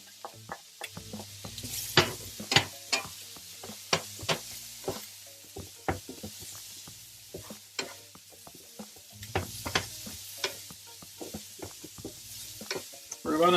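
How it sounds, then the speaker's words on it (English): Peppers sautéing in a pan of garlic-scented oil with a steady low sizzle, punctuated by frequent clicks and scrapes from a spatula stirring them, close and continuous with no talking. "We're gonna saute this for another 1 minute, 2 minutes, until they at least get soft"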